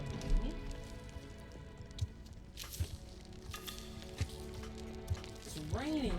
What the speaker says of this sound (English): It's raining, isn't it?